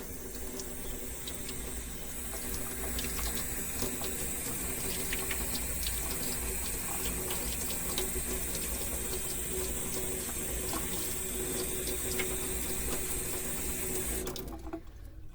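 Cold water poured from a tap into a saucer holding a seed tablet, a steady, close, continuous splashing stream that runs for about fourteen seconds and then stops, with no talking.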